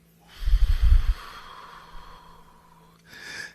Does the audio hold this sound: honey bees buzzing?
no